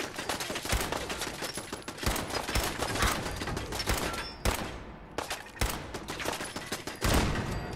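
Automated turret gunfire in the video game Fallout 4, with dense, continuous bursts of rapid shots rattling loudly throughout and brief pauses between volleys, no voices.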